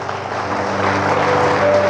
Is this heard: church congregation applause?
yes